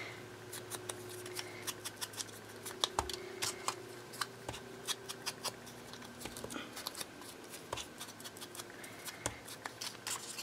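Scissors snip through paper scraps for junk journaling, a quiet series of short, irregular crisp cuts close by with small rustles between them and no talking.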